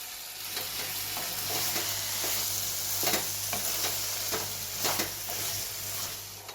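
Mutton keema with peas is stirred in a pan right after the lid comes off, giving a steady sizzle broken by repeated spatula scrapes, close and moderately loud.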